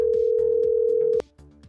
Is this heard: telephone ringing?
yes